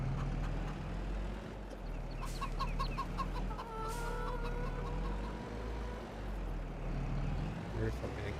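Chickens cluck and squawk in Farming Simulator 22, with a few bright calls rising over a constant low machinery drone while someone talks throughout.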